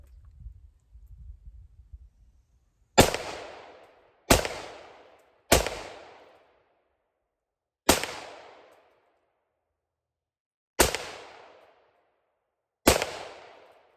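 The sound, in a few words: rifle firing 5.56/.223 rounds, carbine with 16-inch barrel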